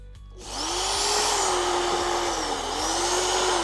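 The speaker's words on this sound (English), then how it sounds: "I just drilled the spot weld." Power drill boring out a spot weld in rusty sheet metal on an old Dodge Charger crew cab, a close, loud whirring whine that spins up after a brief pause and wavers in pitch as it bites.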